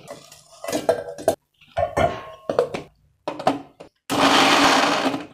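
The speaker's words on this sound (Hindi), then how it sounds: "अब इसे ग्राइंडर में डाल लेंगे।" A kitchen grinder whirs in short pulsed bursts and then a sustained loud run as it breaks up chunks of frozen watermelon, with clattering between bursts.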